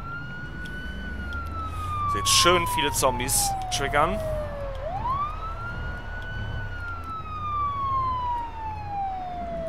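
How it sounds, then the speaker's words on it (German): A police car siren wails in the video game Project Zomboid, one long sweeping tone that falls, then climbs again and slowly drops off, loud and sustained while someone talks over it. "Ich mach mal einmal die Sirene an."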